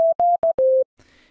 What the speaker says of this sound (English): So first off, we'll go over our basic sine wave.